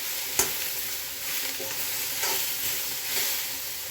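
Eggplant pieces fry and sizzle in oil in a pan for a hotel-style ennegayi, with a steady soft crackle and an occasional stir or tap of a utensil, no talking.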